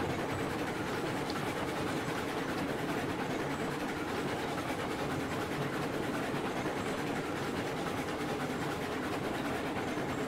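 A Mogul steam locomotive in the game Railroads Online rumbles continuously, with a dense rattling, clattering chug that holds steady and close throughout; no voices.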